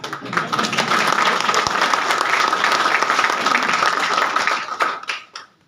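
Sustained audience applause at a Hindi poetry recital (kavi sammelan) at a training institute in Ghazipur, dense steady clapping filling the room for several seconds before tapering off at the end.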